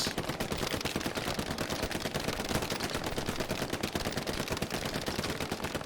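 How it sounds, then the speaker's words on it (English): Dense, continuous machine gun fire in the World War II shooter Hell Let Loose during an 18-versus-18 tournament match on Hill 400, rapid bursts running loud and unbroken with no talk. "MG fire now also coming down on Coldstad here."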